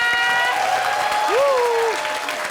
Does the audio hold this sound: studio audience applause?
yes